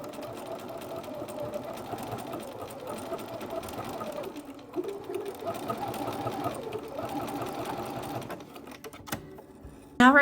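A sewing machine stitches close to the edge of a 1/4 inch rolled hem on a Barbie doll dress. It runs as a steady, continuous mechanical whir for about nine seconds, then ends with a brief clatter.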